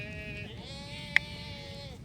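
Goats near a coastal fishing spot give a drawn-out, wavering bleat at a moderate distance over low outdoor background noise, with a sharp brief click partway through.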